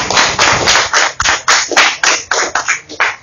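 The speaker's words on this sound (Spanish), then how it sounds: "Dame un aplauso," Applause from an audience at a JB Promotions event, heard as a run of loud, irregular bursts of clapping close by, with no talk over it.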